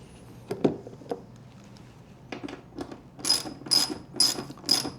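A ratchet tightens the terminal connections on a 36 volt, 30 amp battery in a kayak battery box, with a few scattered clicks and then a run of rapid ratcheting bursts, close and clear with no talking.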